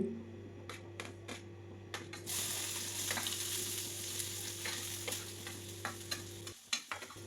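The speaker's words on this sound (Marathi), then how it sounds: "आणि आता पहिल्यांदा ना फोडणीसाठी कांदा टाकून घेते" Onion hits hot oil for tempering and sizzles loudly, with a few clinks and stirring scrapes, the frying hiss continuing steadily to the end.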